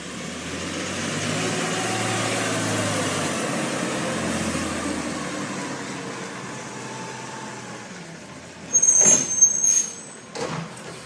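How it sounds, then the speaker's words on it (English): A garbage truck's engine rumbles steadily nearby, then fades, followed by sharp hissing bursts of its air brakes near the end. "Here's some garbage trucks."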